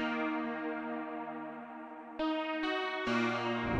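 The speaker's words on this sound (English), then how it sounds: "Just some synthy chords." Sustained synthesizer chords ring out, one long held chord followed by three quick chord changes, bright and clean with no voices.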